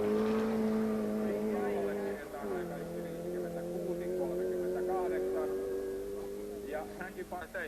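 Ford Escort rally cars racing at a 1992 Finnish rallysprint championship round in Seinäjoki, a steady loud engine drone shifting pitch through gear changes, with a commentator speaking over it throughout.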